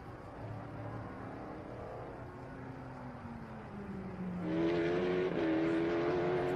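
A race car at Sebring accelerates out of turn 1 in traffic, its engine note droning and sliding down in pitch, then swelling louder into a rising, rasping rev, heard without voices.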